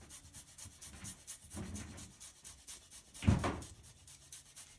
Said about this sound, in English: I'm taking my zester. This is my new fun toy, and I am going to zest it.